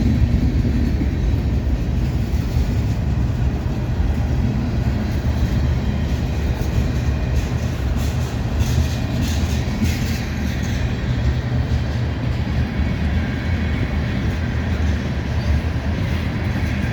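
A train rolls past on the railway, close by, with a loud continuous rumble and roar that holds steady throughout and faint rattling on top.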